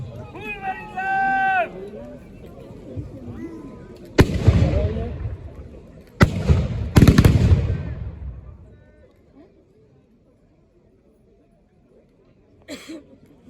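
Reenactment muskets fire blanks at a staging of the 1793 Arlon assault, several loud sharp cracks at irregular intervals with echoing tails, amid crowd voices and someone talking.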